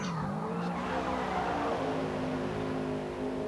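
A Toyota GR86 race car racing on a circuit, its engine droning loud and steady with a sustained rising tone and a brief tire squeal as it slides, close and continuous without a break.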